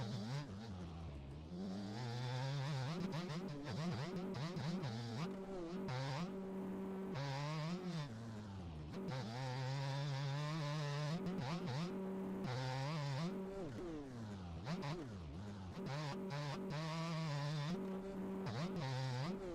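A two-stroke motocross bike engine in MX Bikes revs and drops over and over, a buzzy, rising and falling whine that runs steadily throughout with no talk.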